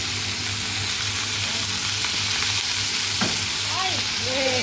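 Oil heating in a pan for a chicken and potato pie, giving a continuous loud sizzle and hiss up close with a low hum underneath and a few faint squeaks near the end.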